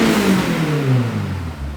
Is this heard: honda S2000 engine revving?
yes